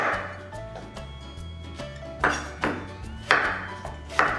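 A knife cuts an onion into large pieces on a board, giving several distinct close chopping thuds at an uneven pace, with no talking.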